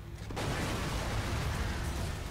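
A loud, sustained grenade explosion in Halo: Reach roars across the whole clip after a sharp onset, broadband and rumbling, with a game-like crunch and no talk.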